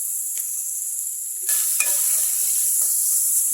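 Two small, finely chopped onions with a little salt sizzle steadily in a hot pan, a constant bright hiss broken by a few soft stirring clinks and scrapes.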